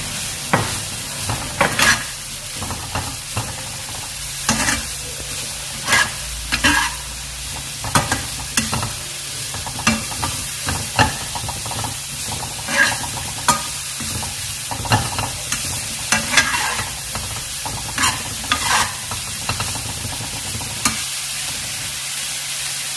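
Oyster mushrooms stir-frying in a pan with a steady sizzle, broken by frequent scraping and tossing strokes from the spatula at an uneven rhythm, close and fairly loud, without speech.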